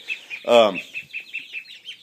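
Chickens cluck and chirp close by in a quick repeated rhythm, with one louder squawk standing out near the start among the steady soft calls.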